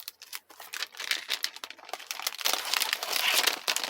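A plastic package of scrapbooking papers crinkles and rustles close up as it is handled and pulled open, in irregular bursts that grow denser and louder toward the end.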